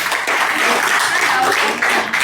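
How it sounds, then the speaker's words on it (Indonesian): An audience at a talk breaks into brief applause, dense close clapping from many hands filling the room, loud and steady for a couple of seconds with a slight dip near the end. "Ayo tepuk tangan dong, keren"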